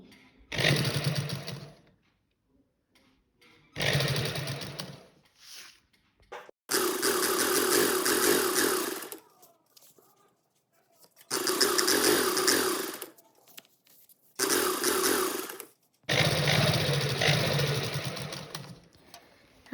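A sewing machine stitches buckram onto a salwar in six loud, steady bursts of whirring, each run lasting one to four seconds, with quiet pauses between them.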